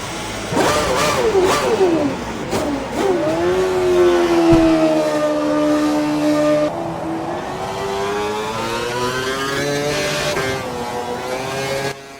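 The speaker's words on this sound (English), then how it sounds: "here is the start of my first flying lap in the Toro Rosso" A Toro Rosso Formula 1 car on a flying lap in an F1 racing game, its loud high-pitched engine howling as it rises through the revs, dropping on a shift and climbing again, steady and close.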